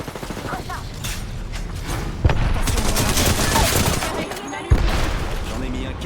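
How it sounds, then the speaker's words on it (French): Bursts of rapid gunfire from an enemy squad crackle in an Apex Legends match, with two sharp louder impacts and mechanical clatter over a dense game soundscape. Speech is faintly present. "Une autre escouade nous tire dessus."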